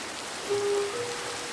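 Minecraft rain falls as a steady, even hiss for a moment, soft and continuous with a faint tone briefly over it.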